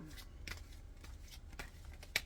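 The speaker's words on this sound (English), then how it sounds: "Let me do a little bit of shuffling." Soft, close card shuffling: a run of quick papery riffles and flicks, ending with a brighter snap, in a quiet room.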